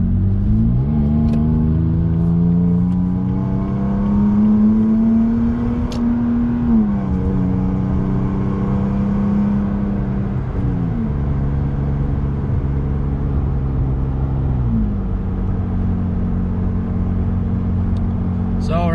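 A 2017 Toyota Tacoma TRD Off-Road engine hums steadily under light throttle in fifth gear, a continuous low drone with slowly shifting pitch from inside the cab, with a voice talking over it.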